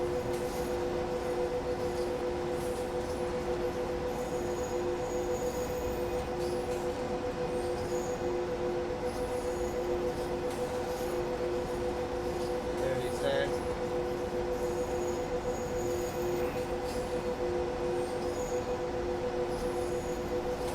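Steady low rumble of a train rolling down the track in Train Sim World 2, with a constant tonal hum and a faint brief squeal midway, continuous and even throughout with no talk.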